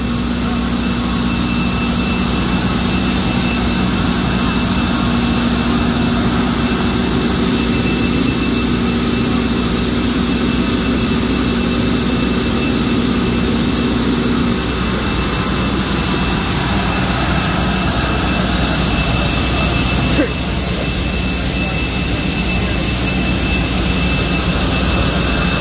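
Jet airliner engines roar loudly and steadily at Aguadilla's Rafael Hernández Airport in Puerto Rico, a continuous dense rumble with a high whine that holds throughout and shifts slightly near the end.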